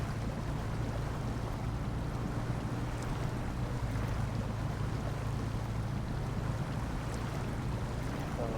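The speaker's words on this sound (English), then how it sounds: "Get us away from that super fast flowing water" Fast-flowing river water in the SnowRunner video game on hard mode, a steady broadband rush with a low rumble that holds at constant level throughout, with no talking.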